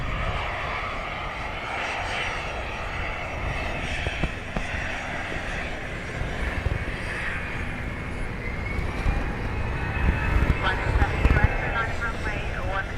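An Aer Lingus airliner rolls for takeoff at Dublin Airport in blustery crosswinds, its engines a loud, sustained roar building toward the end, heard from a distance under wind noise.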